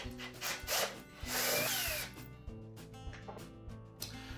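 A mounting screw is removed from an LG refrigerator cabinet during a water inlet valve repair, heard as short bursts of a whirring power driver with metallic rubbing and light clicks in between, close and fairly quiet.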